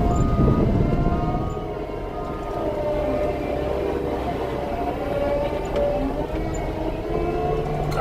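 Heavy earthmoving machine in high gear scooping dirt, a continuous loud diesel drone with grinding, clanking mechanical tones throughout, slightly louder at the start.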